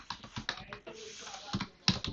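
Computer keyboard keys clicking while someone writes Python code: a quick, uneven run of close, crisp keystrokes with short pauses between bursts.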